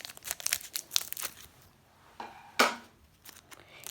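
A Pokémon Sun and Moon booster pack is cut and torn open with scissors, making sharp crinkling snips and rips of foil wrapper in quick close bursts, then a louder tearing rasp near the end.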